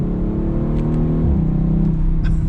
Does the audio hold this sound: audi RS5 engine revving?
yes